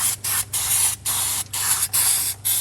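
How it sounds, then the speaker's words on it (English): Brake cleaner hisses from an aerosol can onto a brake caliper in short bursts, about six sharp sprays with brief gaps between them, close and loud. "Just give them a good spray with some brake clean"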